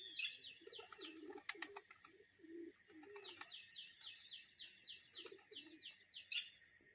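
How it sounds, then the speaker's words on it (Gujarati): Pigeons kept in an upper enclosure at a Sasan Gir resort during the monsoon coo softly in repeated short phrases, with faint bird chirps and a few wing flutters around them. "આમાં ઉપર કબૂતર રાખ્યા છે"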